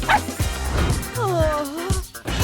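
A dog gives several short yips and whimpery barks, with whining pitch glides in between, close and moderately loud.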